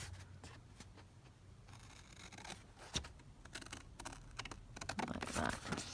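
Scissors snip out a piece of paper for a collage craft, giving faint, close, irregular cutting clicks and rustles in an otherwise quiet room.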